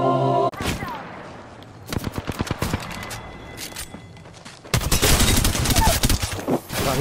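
Automatic weapon fire from the Apex Legends video game, with rapid loud bursts and sustained fusillades between short quiet gaps, voices briefly audible among the shots.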